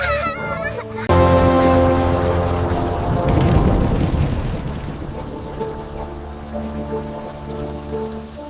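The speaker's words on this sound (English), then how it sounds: "The storm is getting worse." A loud thunderstorm with rolling thunder and a steady downpour of rain. A rumble builds midway under the constant hiss, with tonal music-like layers running alongside.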